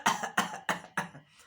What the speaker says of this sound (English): we cough like this.